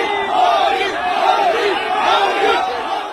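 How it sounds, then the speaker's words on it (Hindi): A large crowd outside a temple chants rhythmic political slogans in unison, loud and massed, with the chant rising and falling in waves over a dense background of crowd noise. "चारों ओर मोदी मोदी के नारे लग रहे हैं"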